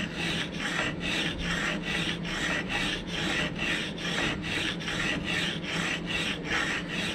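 Coarse side of an India oil stone rubbed back and forth across a BMC 1.5 engine's cylinder head or block face during head gasket repair, giving a steady, close rasping scrape in about a dozen even strokes with no talking.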